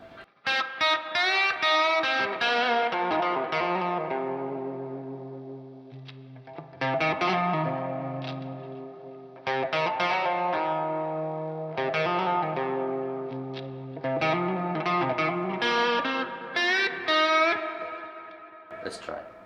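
Gibson Les Paul Gary Moore mod from 2001 played with out-of-phase pickups and the neck pickup lowered, giving a thin, nasal electric tone; close, continuous chord phrases with distortion and echo, repeated in bursts without talking.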